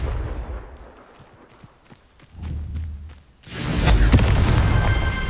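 A Confringo fire curse spell in the video game Hogwarts Legacy: scattered sharp thuds and steps give way to a loud, sustained roaring blast that erupts midway and crackles on to the end, with no talking.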